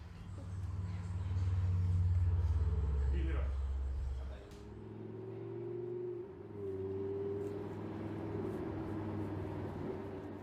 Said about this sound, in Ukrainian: ви поважаєте цю машину, ці технології, цей звук, це Lamborghini.